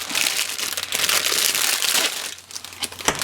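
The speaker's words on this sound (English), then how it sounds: "And it comes wrapped in this little cellophane bag here." Loud, close crinkling of a cellophane bag being pulled open, continuous rustling with sharper crackles throughout.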